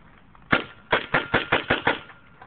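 A paintball gun fires one sharp pop, then after a short pause a quick string of six or seven evenly spaced shots, loud and close, in a quiet setting.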